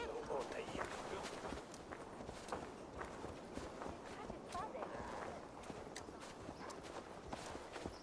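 Horse hooves clip-clopping in Assassin's Creed Valhalla, a steady rhythmic patter of hoofbeats under continuous background game sound and voices talking.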